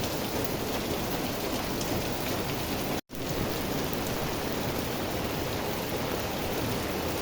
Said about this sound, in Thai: ฝนตก หนักมากนะครับหนักแต่เมื่อคืนนะครับ นี่ฮะ ไม่หยุดเลยนะครับ